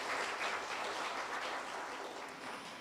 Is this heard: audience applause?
yes